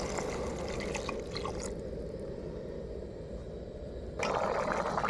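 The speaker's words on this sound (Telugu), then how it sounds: "ఇలా దగ్గరగా అయ్యాక 1 గ్లాస్ వాటర్ వేసుకుందాము." A glass of water is poured into a simmering paneer curry gravy of yogurt and spices, a steady watery rush that continues for several seconds.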